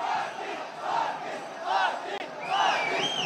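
Crowd of Maratha protesters at CSMT railway station in Mumbai shouting and chanting in rising waves, a dense, echoing roar of many voices that swells and falls.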